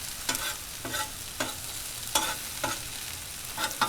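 Pork fried rice frying on a Blackstone 22-inch griddle, with a steady low sizzle under repeated spatula scrapes and clicks that come about every half second, close and fairly quiet with no talk.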